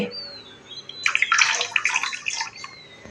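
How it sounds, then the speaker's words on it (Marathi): Water is poured into a pot of rice in a short gushing burst that rises, splashes for about a second and a half, then tapers off in a quiet room. "भातातही मी पाणी घालते"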